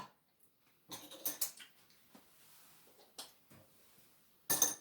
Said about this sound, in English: was my spoon with chocolate dropping on the floor